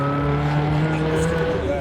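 A modified, slammed Nissan PS13 accelerates hard away from a car show, its engine note climbing in loud, rising harmonics close by, with crowd noise and voices in the background.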